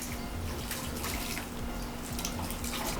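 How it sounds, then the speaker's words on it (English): Hot water pours steadily into a blender being sterilized for homemade coconut milk, a continuous close splashing and running-tap sound with a faint low hum underneath. "I'm boiling some more water to fill the blender to continue sterilizing it."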